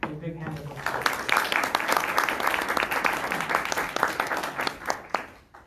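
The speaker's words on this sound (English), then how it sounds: "Please give both of our speakers a big hand of applause" An audience at an evening talk on Islamic thought and philosophy gives both speakers a sustained round of dense, crackling applause, with a voice speaking briefly at the very start.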